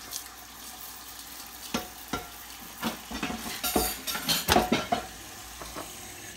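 Zoodles and chopped onion cooking in a pan, with a faint sizzle under a series of scraping, clattering stirs that grow busier toward the end.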